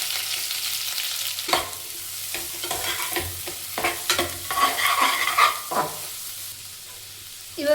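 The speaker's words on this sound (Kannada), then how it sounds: "ಇವಾಗ ಈರುಳ್ಳಿ ಸ್ವಲ್ಪ ಡೀಪ್ ಫ್ರೈ ಆಗಲಿ" Sliced onions deep frying in hot oil in a pan while cooking egg biryani, a continuous sizzle with intermittent scraping stirs of a spatula, steady and close, with a dog barking briefly in the background.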